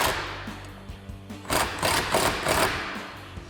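Impact gun with a 13 mm socket driving bolts on a Barricade HDX roof rack for a Jeep Wrangler JL hard top: a steady buzzing whir swelling into several close, loud rattling hammer bursts.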